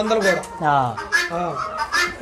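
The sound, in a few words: country chickens clucking on a chicken farm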